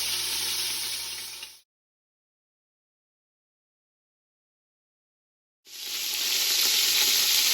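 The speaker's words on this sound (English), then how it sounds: "A lot of sizzling going on over here." Loud, steady sizzling of pork and sausage browning in a hot pan, close up, cutting out abruptly to silence and then returning.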